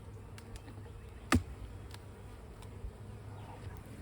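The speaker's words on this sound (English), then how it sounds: "but I can see there's a bunch of bees in here." Honeybees hum low and steadily inside an opened hive during an inspection, close by and fairly faint. A single sharp crack or knock cuts through once early on, followed by a few tiny ticks.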